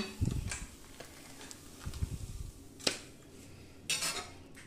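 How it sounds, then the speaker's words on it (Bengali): A freshly fried green peas pancake is lifted off a tawa and set onto a hot serving dish, making a few scattered metal-on-plate clinks and scrapes with quiet pauses between, and no talking. "এবার আমি এটাকে গরম গরম একটা ডিশের মধ্যে সার্ভ করব"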